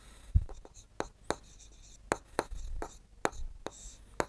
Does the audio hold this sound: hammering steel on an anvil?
no